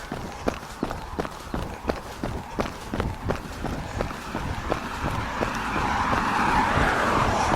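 Cars pass on a road during a five-mile run, with rhythmic footsteps thudding steadily at close range while traffic noise swells into a broad roar toward the end.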